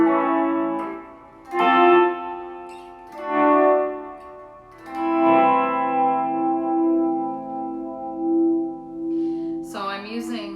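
Electric guitar through a Tube Screamer overdrive, chorus, boost and Holy Grail reverb pedals, playing sustained notes and phrases with swelling dynamics and a shimmering reverb tail, fairly loud and alone.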